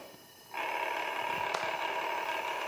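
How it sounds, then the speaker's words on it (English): A steady electrical hiss and buzz of negative high-voltage DC corona discharge starts suddenly and holds, a constant crackling hum with a brief sharp snap partway through. "That's the sound of coronal discharge."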